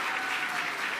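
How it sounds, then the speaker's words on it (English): An audience applauds continuously, a dense and even patter of many hands clapping. "Please give him a round of applause."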